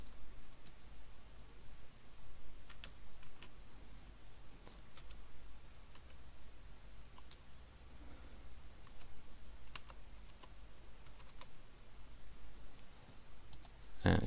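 Quiet, sporadic keystrokes on a computer keyboard while a password is typed in, soft isolated clicks spread evenly over a long, otherwise hushed stretch.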